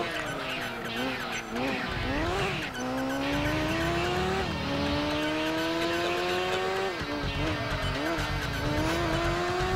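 An Alfa Romeo race car in Gran Turismo 2 buzzes through an endurance race at Rome, its high-pitched engine rising and falling with gear changes, with brief tire squeals, loud and close throughout.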